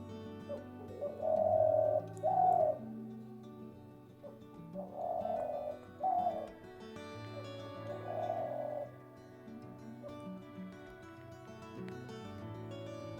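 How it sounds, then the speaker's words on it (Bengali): Dove cooing outdoors, several soft, low hooting calls in short phrases separated by pauses, moderately close over a faint steady background hum. "ঘুঘু পাখি কি সুন্দর ডাকছে দেখা।"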